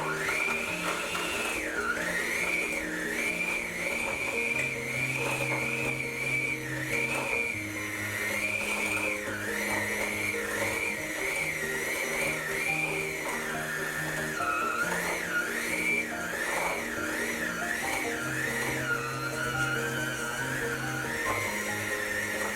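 Eggnog pie ingredients are mixed with a steady, whining motor that runs without a break, its pitch wavering up and down as the load changes, with a low tonal background underneath.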